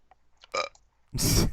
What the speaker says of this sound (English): That was a pathetic belch.